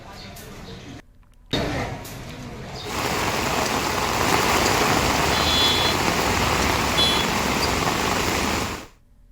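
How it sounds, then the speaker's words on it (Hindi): Steady rain falling in Uttarkashi, a loud, dense broadband patter that swells after a brief pause and continues evenly before stopping, with a faint vehicle-like rumble beneath. "उत्तरकाशी में बारिश हुई है, जिससे लोगों को गर्मी से राहत मिली है।"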